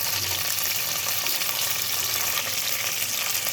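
Whole spices such as cinnamon, cloves and cardamom frying with onions in a pan for chicken biryani, a loud continuous sizzle with a broad hiss throughout and no voices.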